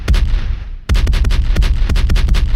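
Rapid booming cannon blasts fire in quick succession, loud and close, with a short pause after the first few shots.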